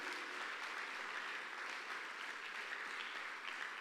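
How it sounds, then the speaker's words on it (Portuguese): Church congregation applauding at an evening service, a steady, dense wash of many hands clapping that holds evenly throughout without any talk over it. "Dê glória a Deus, aplauda o Senhor nesta noite"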